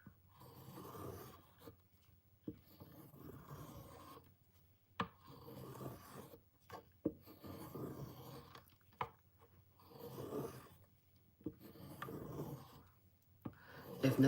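Rhythmic rasping rubs of a knife blade pulled in reverse strokes along a leather strop, alternating sides, come in soft repeated bursts separated by short quiet gaps, close and faint with occasional sharper ticks.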